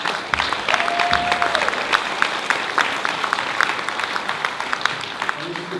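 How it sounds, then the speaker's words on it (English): An audience at a 125th anniversary celebration at Wesley Methodist church applauds steadily. The clapping is dense and sustained, with a voice speaking briefly over it near the start. "big round of applause"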